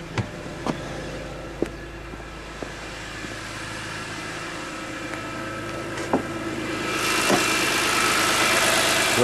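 A 2001 BMW M3 engine idles steadily nearby, a low continuous rumble with occasional faint clicks, growing slightly louder toward the end.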